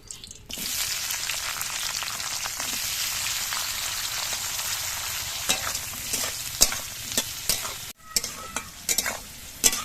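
Capsicum frying in a pan of hot oil makes a loud, continuous close sizzle. Toward the end, irregular clatters of stirring break into it.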